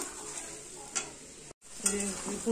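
Spice paste simmering and bubbling in a pan after water is added for fish kalia, a steady close sizzle and stir with a couple of brief scraping clatters and a short dropout midway.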